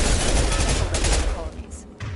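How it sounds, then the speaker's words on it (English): Rapid bursts of machine pistol fire in the video game Mass Effect 2, dense fast gunshots filling most of the moment before trailing off, with a player's voice mixed in. "Let's try this machine pistol out"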